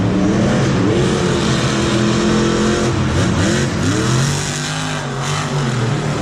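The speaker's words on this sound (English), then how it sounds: "This engine does not sound right." Monster truck engine strains and revs through deep mud in a stadium, a loud roaring drone with rising and falling pitch as the throttle surges, heard throughout without talk.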